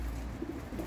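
Soft, low cooing from several older pigeons in winter, a few gentle rounded notes over a steady background hum.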